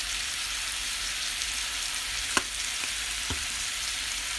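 Food seasoned with pepper and garlic powder browns in a pan with a steady, close frying sizzle, and a few sharp clicks come near the end.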